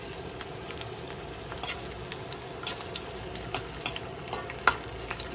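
Garlic frying in a pan for sautéed salted fish paste with tomato, a soft steady sizzle with sharp crackles and pops scattered throughout, fairly quiet and without voices.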